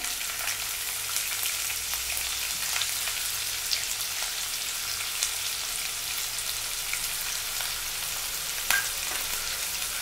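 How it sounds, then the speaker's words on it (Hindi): Chopped onion hits hot oil already crackling with mustard seeds and cumin, giving a steady, close, dense sizzle and fry with faint spatters for the whole stretch, no voices. "प्याज को अच्छे से भूनें।"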